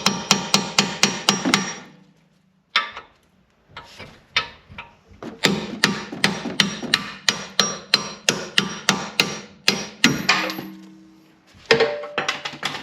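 Sharp metallic hammer blows drive a punch to free a strut part on a 2013 Kia Soul, coming in close, rapid bursts of strikes separated by short pauses.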